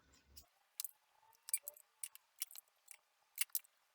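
Scissors snip through fabric for a hand pouch, cutting off a small tip in a quick series of crisp, close snips and clicks, with no talking.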